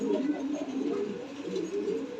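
Fantail pigeons cooing, soft repeated throaty coos in a steady rolling rhythm, close and moderately quiet, with no voices.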